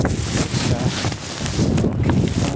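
Strong wind buffets the microphone outdoors beside a working camp stove, loud continuous rumbling gusts, dense low roar rising and falling throughout.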